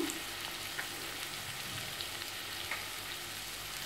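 Ginger garlic paste fries with partly cooked vegetable pieces for vegetable biryani, a soft, steady, fairly faint sizzle with a few light ticks scattered through.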